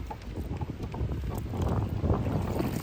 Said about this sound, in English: this wind is really catching us